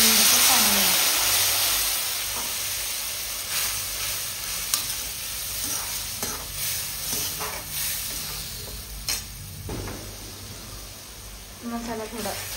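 A masala tempering with coriander sizzles loudly in a hot pan as a little water goes in, a bright hissing burst that settles into steady frying crackle with stirring scrapes, a voice talking over it.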